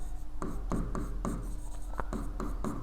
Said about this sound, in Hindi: तो सबसे पहले मैं कोहेसन की डेफिनेशन लिखूंगा।